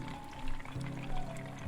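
Water bubbling fast in a pot simmering on a gas flame in a kitchen, a close, continuous churning gurgle with small surges.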